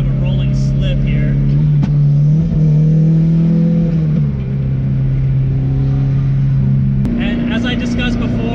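A Mazda Miata with a swapped ZF 5-speed transmission revs through a rolling clutch slip, a loud, steady engine drone that sags briefly mid-clip before climbing again, with talk over it.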